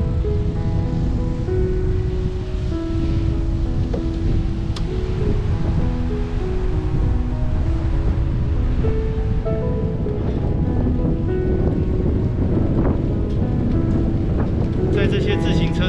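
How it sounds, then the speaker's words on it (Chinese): Strong wind roars steadily against the microphone while cycling along the left bank of the Tamsui River, a loud continuous rush that lasts the whole stretch, with tonal sounds layered over it. "风很大哦，你们可以听到风切的声音"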